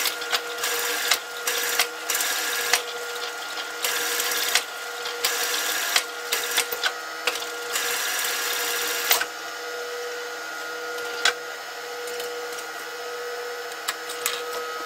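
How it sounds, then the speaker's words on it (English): A sewing machine stitches a sock puppet seam with a busy mechanical whir, running in short bursts with brief stops for the first half, then a quieter continuous hum with occasional clicks. "you can start your sewing machine."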